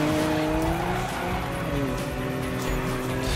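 A car drifts with squealing tires in the Need for Speed racing game, its engine droning loud and steady while the tire screech runs continuously throughout.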